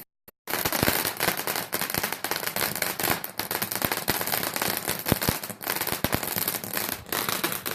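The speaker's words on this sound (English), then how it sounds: "cheap fireworks are a false economy. Because you just end up putting them all together." Cheap fireworks and firecrackers going off at night in a rapid, dense crackling barrage of pops and bangs, loud and continuous after a brief quiet start.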